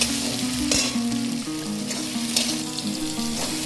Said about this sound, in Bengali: এবার আমি এর মধ্যে দিয়ে দেব টমেটোটা।